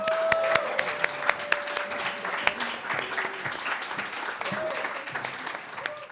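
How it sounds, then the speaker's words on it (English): Scattered, moderately quiet applause from the audience at a poetry recitation finals event, with sharp individual claps standing out and tonal voices or sounds cutting through. "we're going to give you another round of applause because you all are amazing"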